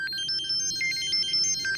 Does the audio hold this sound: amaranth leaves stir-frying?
no